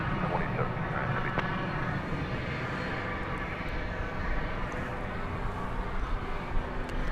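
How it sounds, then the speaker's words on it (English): An Airbus A300 freighter takes off from DFW Airport, its jet engines a steady, broad, distant roar that holds level throughout, with a faint voice talking over it. "this A300 off to Rockford. It's got turn and burn for us."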